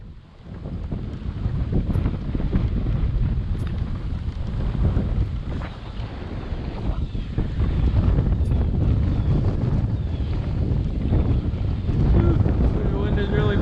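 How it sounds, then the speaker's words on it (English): Strong wind buffets the microphone out on open water during a kayak trip, a constant loud roar with gusts swelling toward the end. "The wind is really picking up though, isn't it?"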